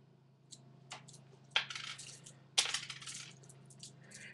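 An American dime and other coins handled by hand, giving a few sharp clinks and rattles, two louder jingles standing out over a steady low hum in a quiet room.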